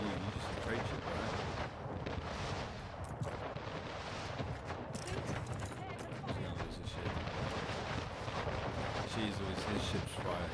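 Ships exchange heavy cannon fire in the naval battles of Anno 1800, a dense continuous barrage of booms and blasts rumbling throughout, with someone talking over the fighting.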